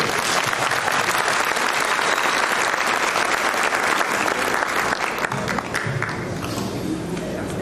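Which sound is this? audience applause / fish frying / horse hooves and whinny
audience applause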